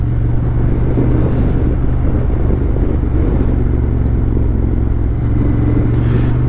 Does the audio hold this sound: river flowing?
no